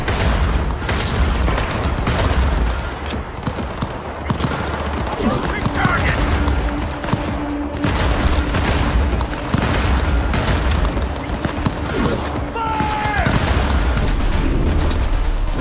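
Rapid gunfire in the video game Cyberpunk 2077 during a train fight, dense volleys and booms running almost the whole time over game noise.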